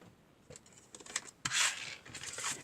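Scissors cutting a piece of cardstock give several quiet snips and rasping scrapes, close by, ending in a longer crisp slicing cut with brief pauses in between.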